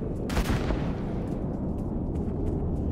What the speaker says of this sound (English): I should be able to throw a grenade in the middle of, like, all these soccer balls